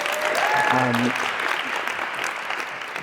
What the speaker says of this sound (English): I think we should give them a round of applause probably for doing that.